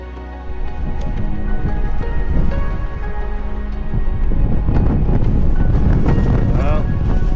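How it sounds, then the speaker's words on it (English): Steady, roaring wind buffets the microphone on an exposed Snowdonia mountainside, a continuous low rumble with gusty swells that grow stronger toward the end. "There is a wind coming from this way."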